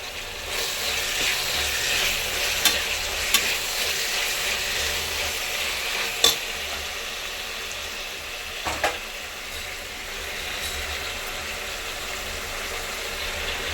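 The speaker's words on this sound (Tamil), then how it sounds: "வெங்காயம் நல்லா வதங்கிடுச்சு" Onions sauté in oil in a pan for vegetable biryani, giving a steady, soft sizzle with occasional louder clicks of stirring, close by and without talk.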